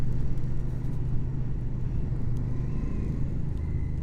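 A motorcycle engine pulling under an open throttle, a continuous low rumbling drone with a steady pulse, close and loud, with rushing wind noise and no talking.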